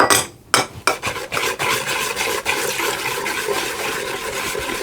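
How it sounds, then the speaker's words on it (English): Egg, sugar and melted butter with a pinch of salt being mixed in a bowl for an apricot and walnut pie: a steady, close scraping and stirring rasp that runs on without pause, with no talk over it. "I'm just going to mix all of those together."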